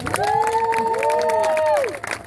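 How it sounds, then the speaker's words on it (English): Parents at a school promotion ceremony cheer their graduating students, a brief swell of crowd whoops and shouts with high voices rising and falling over about two seconds. "let's give them a cheer back"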